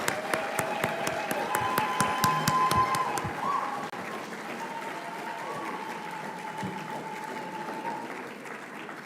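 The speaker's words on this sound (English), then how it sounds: "So a round of applause to our graduating residents and chief residents." Applause from the audience at a pediatrics residency graduation ceremony for the graduating residents and chief residents, sharp distinct claps at first that thin into a softer, fainter patter.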